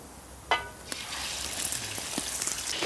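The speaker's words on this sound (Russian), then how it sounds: "Опускаю первым делом мясо. Хочу мясо пожарить, чтобы красное стало." Meat frying in a pot for Chechen donda pilaf, a steady broad sizzle that builds after a sharp clatter near the start, with a few faint clicks and knocks over the hiss.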